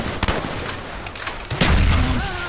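Gunfire in the zombies game Call of the Dead, bursts of shots aimed at George, rapid loud cracks early on followed by a heavier booming blast and rumble, with faint game tones behind.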